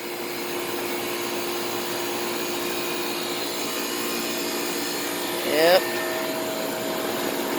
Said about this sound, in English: Good old sound of a reciprocating compressor.